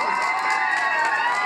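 A live comedy show audience in Iztacalco, Mexico, cheers and applauds for a contestant, with a steady crowd roar and shouts sustained evenly for a second and a half.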